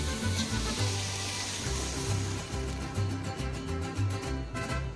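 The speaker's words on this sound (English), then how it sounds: "Now let's transfer the black-eyed peas and the water into the gravy." Black-eyed peas and their cooking water pour into a pan of gravy, making a continuous wet splashing and bubbling rush with a low, uneven churn and no talking.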